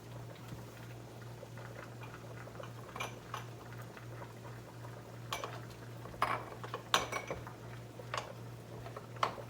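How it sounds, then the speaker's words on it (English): Canning jars boil in a pot of water for apple butter, a low steady bubbling with a faint hum, and sporadic small clinks of glass and metal that grow a little busier toward the end. "I've been boiling my jars."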